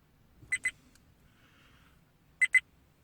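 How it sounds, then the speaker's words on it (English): A Viofo A129 DUO dashcam gives two pairs of short, sharp double beeps about two seconds apart in an otherwise quiet setting, warning that it is not recording. "So it's beeping because it's letting you know it's not recording."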